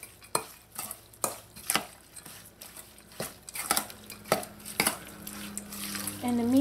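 A spoon works through a Shepherd's pie mixture seasoned with salt and pepper, making a steady run of close knocks and scrapes against the pot, with a louder stretch near the end.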